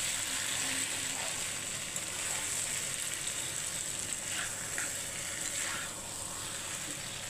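Potatoes sizzle in oil in a pan while a mutton keema is cooked, a continuous hiss of frying with faint scattered crackles, steady and close throughout.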